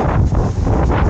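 Strong wind at a seaside fishing spot on the Real–Mauban road in Quezon buffets the microphone with loud, continuous broadband roaring that surges and eases over about a second, with no voices.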